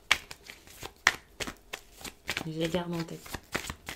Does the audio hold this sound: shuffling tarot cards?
yes